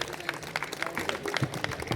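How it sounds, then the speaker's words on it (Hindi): Applause from an audience at a school foundation-day felicitation ceremony, a busy patter of many hands clapping at moderate distance with faint voices mixed in. "तालियों की कोई कमी मत रखिए"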